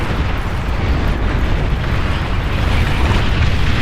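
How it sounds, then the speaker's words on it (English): A huge explosion with a mushroom cloud in the strategy game Beyond All Reason: a loud, sustained roaring blast that rumbles without pause, dense and powerful throughout. "that's a good fucking explosion"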